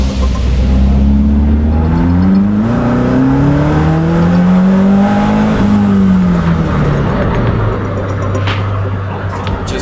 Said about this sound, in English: I really am in love with the sound of this car.